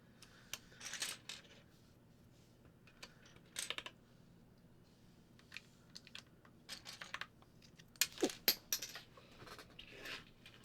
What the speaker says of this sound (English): I need to stop being Butterfingers and stop dropping these keycaps.